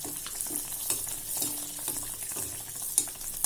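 Karaikudi kara poori frying in hot oil, a soft bubbling sizzle with small crackles and a few sharper pops, heard close and fairly quiet.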